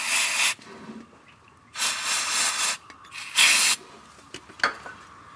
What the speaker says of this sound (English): I'm going to take a little bit of ether and I'm going to spray up in the hole.